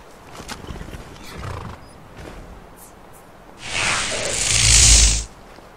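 A horse in Skyrim neighs loudly and snorts near the end, after quieter hoof-like thuds and rustling earlier, with a slightly artificial game-like quality.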